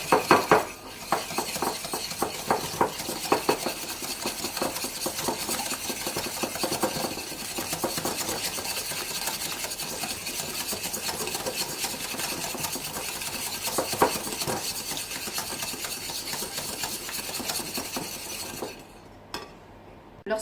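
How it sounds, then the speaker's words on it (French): A spoon stirs an egg and sugar mixture in a bowl, a continuous close scraping and clinking that runs steadily for most of the stretch before cutting off near the end. "On mélange bien."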